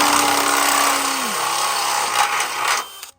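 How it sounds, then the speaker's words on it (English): A power drill whines loudly and steadily up close, its pitch shifting as it bores, then winds down and stops abruptly. "turn the drill backwards"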